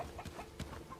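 Chickens in the medieval village-building game Bellwright cluck in short, separate bursts, two or three nearby calls over a quiet background hum.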